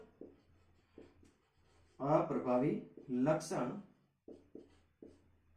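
Chalk or marker strokes on a classroom board: short, scratchy taps come alone at the start and end, while a teacher's voice talks loudly over the middle stretch.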